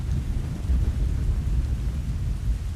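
Rain and thunder make a steady, deep rumbling roar, with a dense low wash of falling rain and rolling thunder that holds evenly throughout, with no voices.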